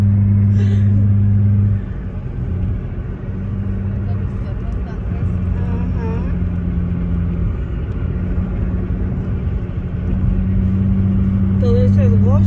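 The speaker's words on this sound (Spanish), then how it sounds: "Choleando en el carro de mi amiga." A car drives along a road in Goshen, California, heard from inside the cabin as a loud, steady low engine and road rumble with a deep hum that drops briefly and returns, while voices murmur faintly in the background.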